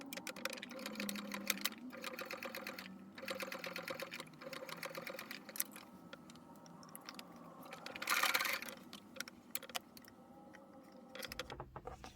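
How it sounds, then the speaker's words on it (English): A sewing machine stitches along the edges of a rank patch on a military uniform, running in steady rhythmic bursts with short pauses between passes, close and moderately loud with no talk over it. "we are just going to sew on edges exactly same stitches, same distance"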